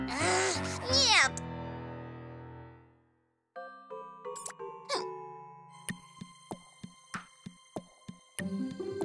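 A cartoon cat meows loudly near the start, followed by a quiet gap, then chiming tones and a series of short, evenly spaced ticks or taps.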